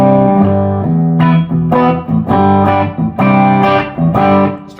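Electric guitar played through an amp with the treble cranked up, reverb and delay, and no other pedals. Loud, bright, sustained chords ring out in a strummed rhythm with a lingering tail.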